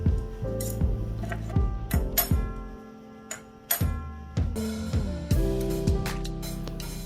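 Glazed ceramic sushi set pieces, dipping bowls, soy sauce dispenser and chopstick rests, clinking and knocking as they are unpacked and set down, a string of close, sharp ceramic taps with brief ringing tails.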